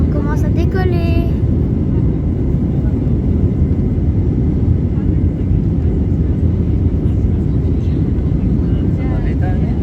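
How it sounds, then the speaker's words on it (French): A TAP Air Portugal airliner takes off, its jet engines giving a loud, steady, continuous roar as heard from inside the cabin, with passengers talking over the noise. "On commence à décoller."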